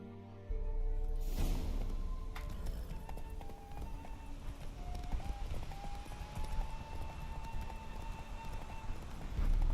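Galloping hooves pound rapidly and continuously over game music with a sustained melodic tone, fairly loud throughout, in The Witcher 3: Wild Hunt.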